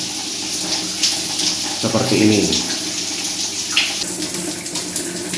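Water running from a shower in a test of weak water flow, a steady close hiss and splash throughout, with someone speaking briefly over it.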